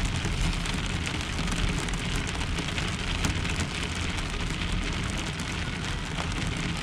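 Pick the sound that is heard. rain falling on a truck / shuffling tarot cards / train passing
rain falling on a truck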